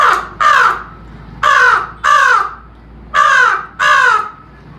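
A man imitates a crow, giving six loud, close cawing calls in pairs with short pauses between them, with no other sound around them.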